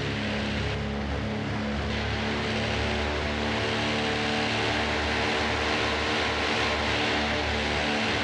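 PBY Catalina WWII seaplane's radial engines droning loud and steady with propeller roar from inside the cockpit as power is brought back up for a go-around.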